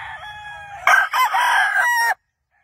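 A gamefowl rooster on a game farm crows once, loud and close, a single drawn-out call lasting over a second before silence.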